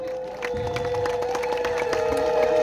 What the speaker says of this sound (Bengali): মা বোনেরা সবাই মিলে শঙ্করধ্বনি উলুধ্বনি এবং হাততালি